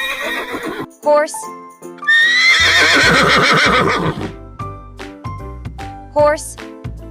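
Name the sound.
horse neighing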